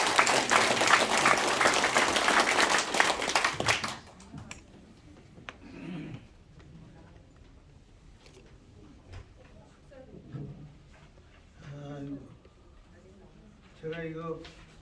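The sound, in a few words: audience applause at a meeting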